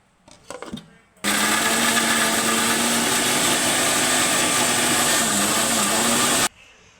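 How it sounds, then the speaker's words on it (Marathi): A kitchen mixer grinder blending tomatoes with coriander runs for about five seconds, a loud steady whirring drone that starts abruptly after a few faint knocks and cuts off sharply. "आता मी लगेच टोमॅटो पण मिक्सरमधून काढून घेणार आहे यात मी थोडीशी कोथिंबीर टाकणार आहे"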